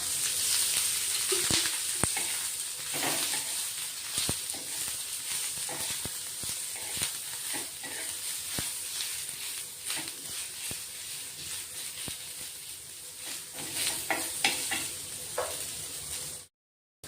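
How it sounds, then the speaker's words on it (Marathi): Sliced onions fry in a little oil in a pan, a continuous close sizzle with occasional sharp pops and stirring clicks throughout, then abrupt silence at the end. "तेल टाकल्याने कांदे पटकन भाजले जातात"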